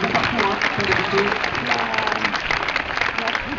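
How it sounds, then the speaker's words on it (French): Audience clapping at a horse show jumping event, a dense steady wash of applause from a crowd for the whole stretch, fairly loud with a muffled, band-limited quality. "des applaudissements, s'il vous plaît"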